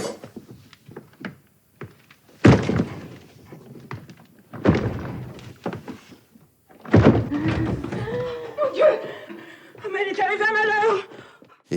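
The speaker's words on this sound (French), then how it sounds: "Il faut enfoncer la porte." A locked door whose key is still inside is forced open with heavy thuds and bangs scattered between stretches of talk and movement.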